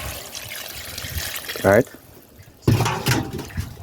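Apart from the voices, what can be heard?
water being poured into pork wine stew pot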